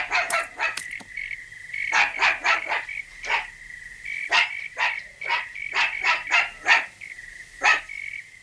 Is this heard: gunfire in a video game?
no